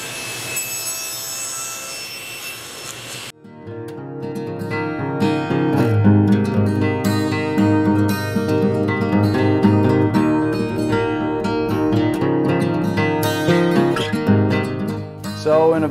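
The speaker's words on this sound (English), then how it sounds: "So we'll start with just a regular miter gauge and we'll go ahead and do some crosscuts here." A table saw with a Whiteside 40-tooth blade crosscuts wood against a miter gauge, with a high-pitched motor whine before a loud, sustained cutting roar that runs for most of the clip, with no talking.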